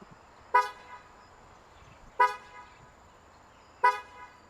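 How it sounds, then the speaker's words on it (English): A BYD M6 electric car's horn, triggered remotely through its app, sounds three short, sharp honks spaced evenly about a second and a half apart, fairly close and clear against a quiet background. "when you press this, the horn goes on a few times"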